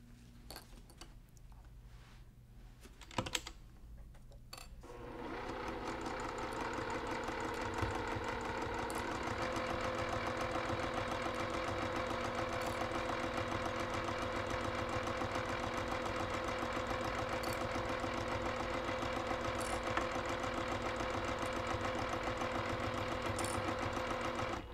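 Sewing machine stitching a quarter-inch seam on a cross-stitch pillow cover: after a few quiet clicks and handling noises, a steady, fast mechanical whir runs on continuously at low volume.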